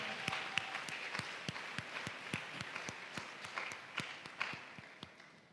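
A church congregation at a Sunday service applauds, rhythmic hand claps repeating steadily at a moderate distance for several seconds over a faint room murmur.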